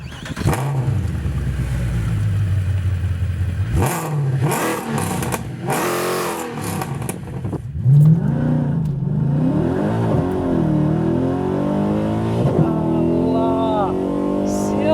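A Mercedes C63 AMG Black Series V8 engine revs and roars repeatedly, rising and falling in pitch, loud and close, with a voice briefly audible over it.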